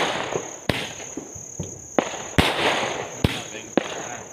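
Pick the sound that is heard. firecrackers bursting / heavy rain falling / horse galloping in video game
firecrackers bursting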